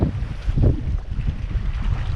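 Strong wind buffets the microphone aboard a Flash 170 sailboat on a reservoir, a loud continuous low rumble with gusty surges and some water noise, no voices.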